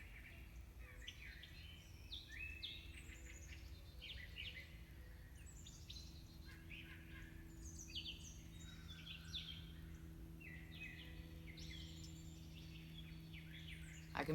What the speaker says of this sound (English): You want to just listen to the birds for a second?